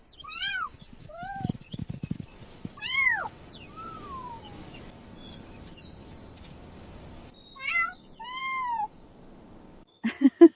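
Two young tiger cubs give a series of high, drawn-out cat-like meows and mewls, some overlapping, close and fairly loud, separated by quieter gaps with faint rustling and a few short sharp cries at the end.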